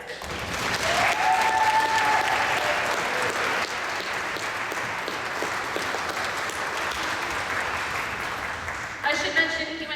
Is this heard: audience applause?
yes